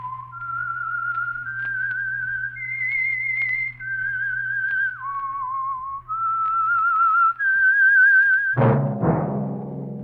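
A clear, loud whistled melody of sustained held notes stepping up and down, the theme of the radio mystery show The Whistler, alone over a low hum, ending with a sudden rich chord.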